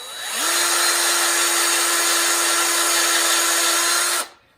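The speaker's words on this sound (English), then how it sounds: "So I'm going to go ahead and drill it down." A power drill bores a screw pilot hole in wood for a camp trailer build, spinning up and whining steadily at close range for about four seconds before stopping abruptly, with no talk over it.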